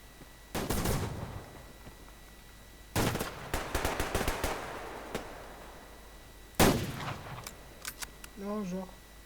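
Gunfire in the online shooter Survarium, with several bursts of rapid automatic fire and a few single shots, loud and close, followed by a short sound at the end that may be a voice.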